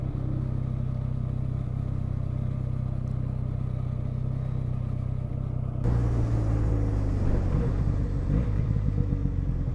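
A Benelli Leoncino 500 motorcycle holds a steady low engine drone with wind noise, then a sudden louder, rougher rumble as it picks up speed, heard from the passenger seat.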